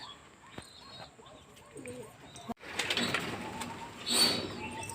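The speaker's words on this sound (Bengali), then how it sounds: "আর এখানে কিছু পায়রা আছে এই যে নেটের ভিতরে" Pigeons coo softly inside a net enclosure, low murmuring calls near at hand, joined midway by a louder broadband rustle and clatter that persists to the end.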